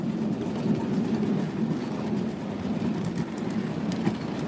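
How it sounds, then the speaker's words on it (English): A steam train at White Creek Railroad labors up a hill with a steady, heavy rumble and faint rhythmic chugging, loud and continuous, with no one speaking. "So, for engineer George, this is going to be one of the hardest parts of the railroad for him because we're going to be going up a hill"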